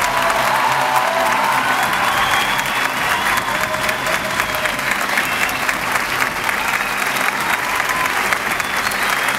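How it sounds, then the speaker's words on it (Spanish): A large audience gives loud, sustained applause to the Orquesta Filarmónica de Bogotá at a school event with Colegio Enrique Olaya Herrera, dense even clapping with a little cheering, unbroken from start to end. "Por favor, un gran aplauso."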